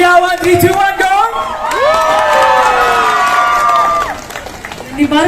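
An audience shouts and cheers together on cue, a loud swell of high, excited voices and whoops lasting a few seconds before dying away, with little distinct clapping standing out.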